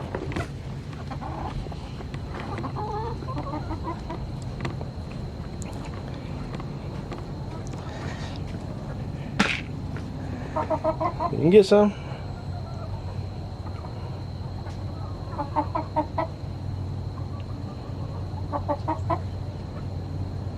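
Wyandotte chickens cluck and call intermittently in a coop, with a louder burst of clucking midway, under a steady low hum and a person talking.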